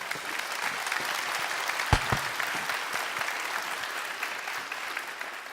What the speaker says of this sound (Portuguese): salva de palmas para vocês